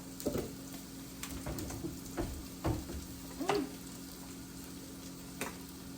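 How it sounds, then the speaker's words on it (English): Seasoned potatoes and green beans stirred in a hot pan, with a soft sizzle underneath and several scraping, clattering stirs of a utensil spaced irregularly across the clip. "I'm gonna just kind of give it a little mix in here so this way they're all kind of nice and coated."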